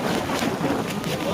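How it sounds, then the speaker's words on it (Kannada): Strong wind on the rainy summit of Mullayanagiri in Chikmagalur, Karnataka, buffeting the microphone as a continuous loud roaring rush with no voices. "ಗಾಳಿ ಯಾವ ಥರ ಇದೆ ನೋಡಿ ಗುರು."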